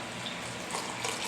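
Water poured from a measuring cup, about three-quarters of a cup, into muffin mix in a bowl, a steady close splashing pour lasting the whole moment.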